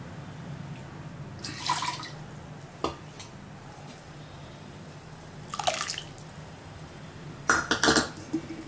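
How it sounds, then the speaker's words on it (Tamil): Tamarind water for cabbage sambar is poured into a cooking pot in a few short splashing bursts, with quiet drips and a light clink between them. "புளி தண்ணியும் வந்து நம்ம ஊற்றிடலாம்."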